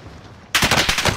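Rapid automatic gunfire bursts out loud and close in Call of Duty: Warzone after a quiet start, a dense run of shots lasting to the end.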